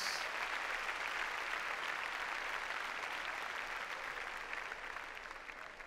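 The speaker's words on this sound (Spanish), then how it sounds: "démosle palmas fuertes al Señor, gloria a Dios" Steady, dense applause from a large congregation at a church service, sustained throughout and tapering slightly near the end.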